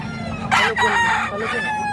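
Roosters and hens at a live poultry market in Lipa, Batangas, crowing and clucking close by, with a rising crow burst in the middle over a steady background of farm birds and market noise.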